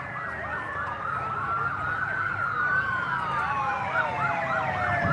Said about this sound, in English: Oh, it looks like the motorcycle popo's coming back.